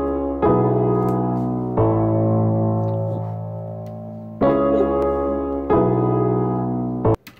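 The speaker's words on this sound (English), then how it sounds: "Like I said, this chord progression sounds like this." A beat's chord progression plays loud and clear, sustained chords changing every second or so and then repeating the same sequence a second time, with no talking.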